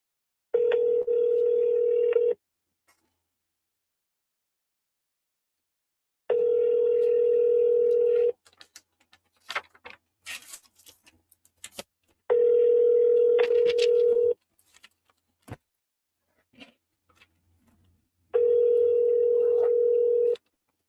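A telephone call is placed and the line rings back in four steady, evenly spaced tones with long silent gaps, loud and close, while faint scattered clicks and rustles fill the pauses and no one speaks.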